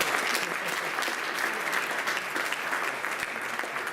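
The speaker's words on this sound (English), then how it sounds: "Also applause please." A conference audience at an agile software event applauds steadily, dense broadband clapping filling the room for the full few seconds without a break.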